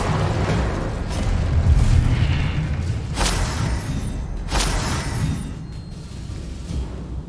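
Incendio fire spell in Hogwarts Legacy, a sustained roaring whoosh of magical flame with sharp bursts and booming impacts at intervals, loud throughout with no talk.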